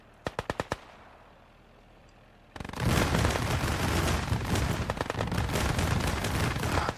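Machine gun fire in the World War II strategy game Gates of Hell: Ostfront: a quick burst of close shots, a lull, then a loud sustained stream of heavy automatic fire and battle noise.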